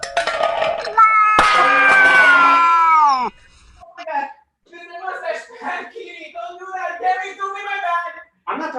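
A pet cat lets out a loud, drawn-out meow up close, followed by shorter mewing cries mixed in with people talking nearby.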